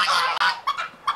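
A big male turkey kept at a hen house calls out in a few loud, close, harsh honking bursts, with one sustained call followed by shorter ones.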